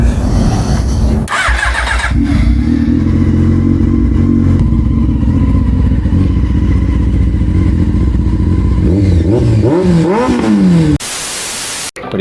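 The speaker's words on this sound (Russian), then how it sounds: "дособирал я наконец-то этот мотоцикл. Сейчас буду пробовать завести." A restored motorcycle, started with a wire because of a dead starter relay, cranks briefly, then fires and runs with a loud, close, rough idle. Near the end it revs up a couple of times before cutting off abruptly.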